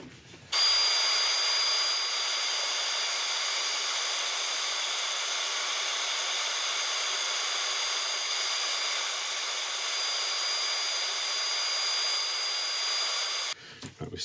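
Oak burl box spinning on a wood lathe while its sides are sanded, a steady close broadband hiss and whir running unbroken for about thirteen seconds before cutting off.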